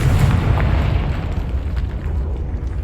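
The Confringo fire spell goes off in Hogwarts Legacy with a heavy, rumbling blast, a deep boom that sustains as a roaring, crackling burst before easing slightly.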